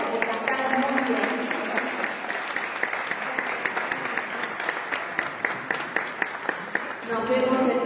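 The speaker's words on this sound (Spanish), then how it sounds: "Un aplauso a la Virgen y uno para nosotros que cantamos muy bien." Church congregation applauding at the close of a Thursday Medalla Milagrosa novena, a dense sustained patter of many hands with voices and singing mixed in underneath, gaining a few sharper separate claps near the end.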